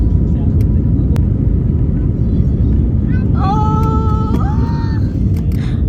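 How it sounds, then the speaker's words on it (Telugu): Airplane engines roar as a domestic flight out of Delhi starts for takeoff, a loud, steady, broadband rumble heard from inside the cabin, with a brief rising whine partway through and no talking. "ఫ్లైట్ ఇంకా స్టార్ట్ అయిపోయింది, రెడీ టు ఫ్లై అన్నట్టుంది."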